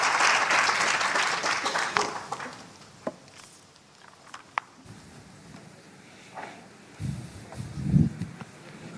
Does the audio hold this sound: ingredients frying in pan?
no